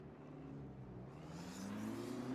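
BMW GT3 race car in RaceRoom, racing at Sonoma, its engine droning steadily and rising in pitch as it accelerates, heard continuously at moderate level with no talking.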